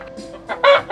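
A Sasso rooster among breeder chickens gives a few short, close clucks and throaty calls in quick bursts over a quiet background.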